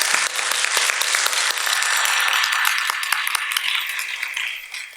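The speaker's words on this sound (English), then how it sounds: "let's give a round of applause for our 2 finalists" Spelling bee spectators at a district competition clap for the two finalists, a dense, lively burst of applause that holds steady and then thins out toward the end.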